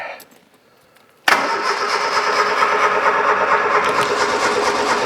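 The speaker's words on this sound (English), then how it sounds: "Well, it wants to start, but it's cold and hasn't gone anywhere in a while." A cold Ford F350 diesel engine that has sat unused cranks after a quiet moment, then churns loudly and continuously at close range as it tries to start.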